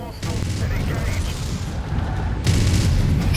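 Weapon fire and explosions from the MechWarrior 5 mech combat game, a dense, continuous rumble of booming blasts and gunfire with a sharp louder burst near the end.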